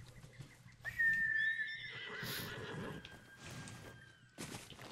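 A horse whinnies loudly in Ghost of Tsushima, a long high tonal neigh that slowly falls in pitch, with hoof clip-clops and game ambience around it and a fainter sound returning near the end.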